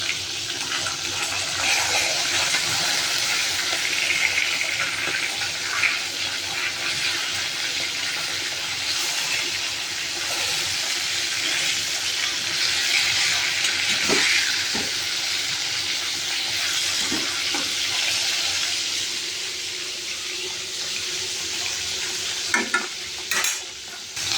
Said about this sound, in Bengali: আচ্ছা ধুচ্ছি, এই দেখো তরকারি কাটা হয়ে গিয়েছে।